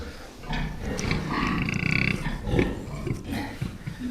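A farm sow with newborn piglets grunts and squeals close by, a busy overlapping mix of deep snorts and higher piglet cries over several seconds.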